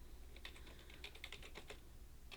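Quick, light clicking of keys on a computer keyboard comes in short irregular bursts, faint and close, with no voices.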